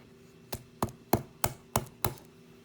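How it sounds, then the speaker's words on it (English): Garlic being smashed for som yock, six evenly spaced sharp thuds on a board, close and crisp with quiet between each blow. "You smash the garlic,"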